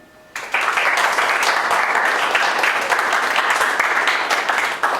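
A class applauds after a student's presentation in a classroom: sustained, dense clapping from many hands begins abruptly after a brief quiet moment and continues steadily and fairly loud to the end.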